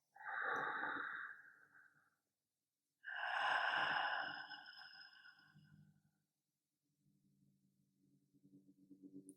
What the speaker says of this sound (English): Take a cleansing breath.